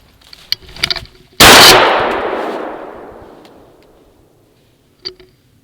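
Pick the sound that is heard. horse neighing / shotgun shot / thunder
shotgun shot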